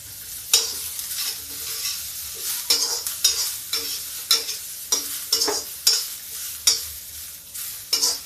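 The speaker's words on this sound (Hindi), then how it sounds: "इसमें डाल देते हैं लहसुन, साथ में ही प्याज, क्योंकि जब तक लहसुन पकता है तब तक प्याज जल जाता है।" Garlic, chopped onion and green chili sizzle in hot oil with bay leaf, cloves and black pepper while being stirred for a cluster bean dish. A spoon scrapes the pan in repeated close strokes over the steady frying hiss, with no talk.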